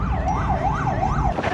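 A loud, close ambulance siren wails in a fast rising-and-falling cycle, repeating steadily over steady traffic rumble, with a brief break near the end.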